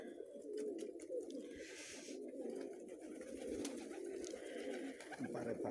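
Pigeons coo steadily in a cold loft while feeding, a dense low murmur of overlapping calls running throughout at close range, with faint shuffling and no talk.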